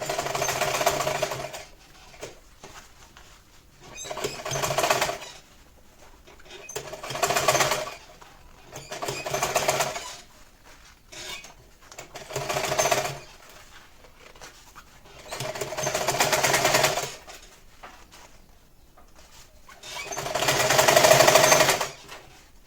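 A sewing machine stitches all the way around a crossbody shoulder bag in repeated bursts of steady rapid whirring, each a couple of seconds long and separated by short pauses, close and clear with no talking.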